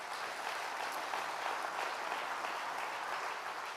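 Church congregation applauding during a sermon on water baptism, a steady dense wash of clapping held at even level throughout, no talk over it.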